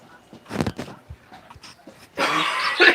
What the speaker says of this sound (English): can you not cough in my room?